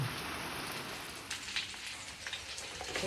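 Steady rain falls outside a summer kitchen, a dense, even hiss of drops with scattered louder patters striking nearby surfaces, continuous and close throughout with no voices.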